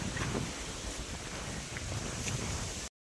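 Wind gusts across a farm during a rainy spell, buffeting the microphone as a continuous rough, roaring hiss with low rumbling, then it cuts off abruptly.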